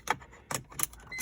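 BMW 330i ZHP car keys jangling in short metallic bursts, three or four quick rattles close to the listener, with no talk over them.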